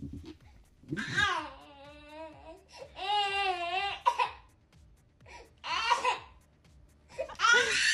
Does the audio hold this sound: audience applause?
no